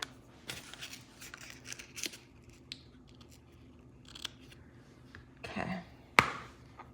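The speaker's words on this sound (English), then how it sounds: "you can trim up your ribbon ends as needed" Scissors trim the ends of ribbon on a handmade Stampin' Up! hexagon fun-fold card, giving a few short, close snips scattered over quiet room tone, with a sharper cut near the end.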